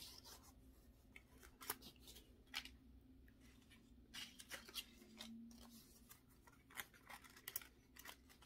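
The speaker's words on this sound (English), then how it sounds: "I'm just going to cut each strip to fit in there." Scissors snipping strips to fit inside a pine box, a series of crisp, separate cuts at an irregular pace, close and quiet, with faint handling rustle between them.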